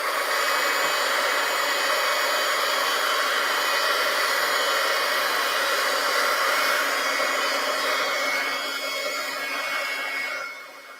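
A hair dryer blows on a pile of fabric scraps, producing a loud, steady whirring roar that runs without a break and drops off at the very end.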